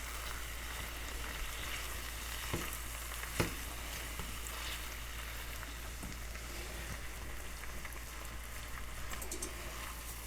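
Ground beef fries in a pan with a steady broadband sizzle, broken by a few sharp scrapes and taps as the meat is broken up, close and constant with no voices.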